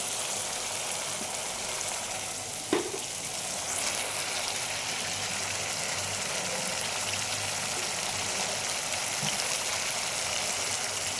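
Masala fries in a pan, a steady even sizzling hiss that runs unbroken throughout, with one brief knock of a utensil early on, close and moderately loud, no talking.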